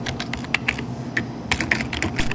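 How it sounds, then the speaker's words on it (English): Close, fast typing on a computer keyboard: a run of irregular, crisp key clicks with a few louder taps, heard alone over a faint room hum. "And I'll just type grilling with Wallach,"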